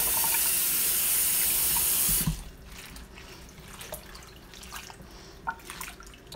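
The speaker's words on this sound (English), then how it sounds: "Put some water in there. Let it fill up." Tap water runs hard into a kitchen sink being filled to wash collard greens, a loud steady rush that cuts off after about two seconds, followed by quieter sloshing, splashing and dripping as the greens are moved around in the water.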